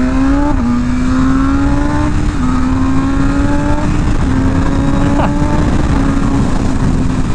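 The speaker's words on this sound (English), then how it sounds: "Maxing out the rev limiter on every single gear." A 2023 BMW M1000R motorcycle engine revs loud and close, its steady high-pitched tone climbing repeatedly with brief dips as it runs up through the gears, under constant wind rush.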